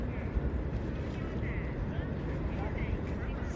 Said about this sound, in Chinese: 这是一个小鸭子啊